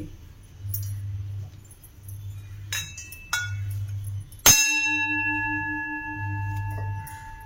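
A heavy antique metal frying pan, about 7 inches, is struck once with a sharp, bright clang that rings on with a long, sustained tone, after a few lighter clinks.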